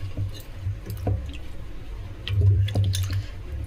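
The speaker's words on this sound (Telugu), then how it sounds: "మంచిగా మట్టి పోయేటట్టు మంచిగా కడుక్కోవాలి" Muddy elephant-foot yam tubers are scrubbed by hand in a vessel of water, giving close, wet squishing and sloshing with soft drips that swell louder toward the end.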